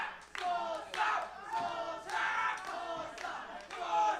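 A wrestling crowd at a live indie show roars and chants steadily behind Sosa during an ankle-lock submission hold, a dense, continuous cheer with claps rising and falling throughout.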